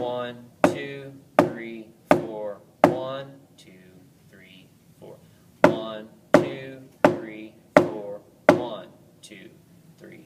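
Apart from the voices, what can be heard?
snare drum exercise, quarter and whole note strokes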